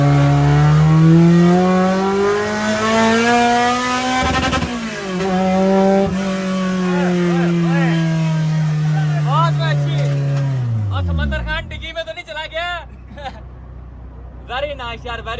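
A Honda K24 engine in an EF hatchback revs hard on a dyno, climbing through a loud sustained pull before the revs drop off and sharp blips and chirps follow near the end.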